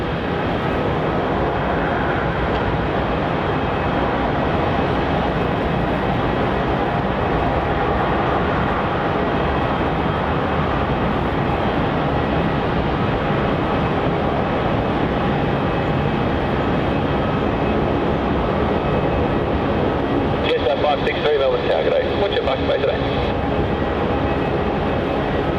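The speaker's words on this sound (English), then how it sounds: "So we've got an international 737 departure here for Virgin Australia, headed off to the beautiful Fiji." A Virgin Australia Boeing 737 takes off from Melbourne Airport, bound for Fiji. Its jet roar fills the air as a loud, continuous broadband rush that holds steady for the whole stretch, with a slight shift in tone near the end.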